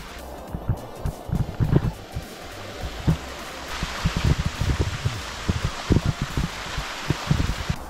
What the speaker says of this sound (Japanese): 滝があるわ